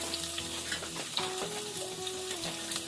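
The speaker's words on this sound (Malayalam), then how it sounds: "ഇനി ഒന്ന് വഴറ്റി കൊടുക്കാം" Garlic and onion sizzle steadily in a hot pan for a Kerala-style mushroom roast, a close, continuous frying hiss with faint stirring scrapes and no talking.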